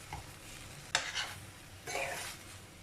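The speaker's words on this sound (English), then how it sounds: "Now we'll add in the spinach, the methi leaves" Spinach and methi leaves tossed into a hot pan with courgettes, sounding as a soft sizzle with two bursts of stirring and rustling, close and fairly quiet.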